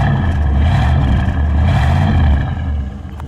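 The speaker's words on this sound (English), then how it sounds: "Go ahead, give it a rev, Steve." 1975 Cadillac Fleetwood Brougham V8 engine revving up loud and close, a deep rumbling roar held for a couple of seconds before easing off.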